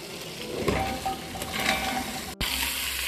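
Vegetables sautéing in a pot for a slow-cooked beef roast with carrots and potatoes send up a dense, close sizzle with scraping stirs and a momentary cut-out partway through; no voices.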